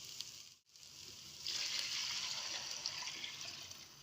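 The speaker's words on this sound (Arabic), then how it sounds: "في الوقت ده بعد ما اتغلف كله بالزيت هنبدأ بقى ننزل بمية سخنة" Hot water is poured into a pot of oil-coated rice for one-pot Egyptian koshari, a steady gushing pour that starts suddenly and runs for a few seconds.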